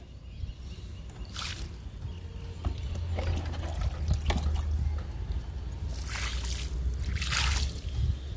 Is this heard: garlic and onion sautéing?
no